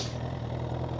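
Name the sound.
Honda CBR1000RR motorcycle exhaust idling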